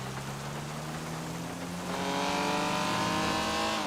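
A car engine in GTA 5 drones steadily, then rises in pitch as it accelerates, with a hiss of heavy rain or road noise underneath.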